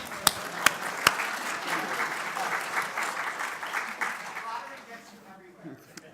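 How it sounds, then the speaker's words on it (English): A conference audience at a 2017 summit welcome session gives sustained, dense applause, with a few sharp close claps near the start and murmuring voices underneath, before the clapping thins and fades toward the end. "we should start off with a round of applause for you all"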